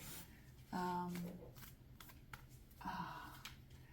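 Tarot cards riffle and slide against each other in two rustling bursts, with soft handling noises between, close and fairly quiet.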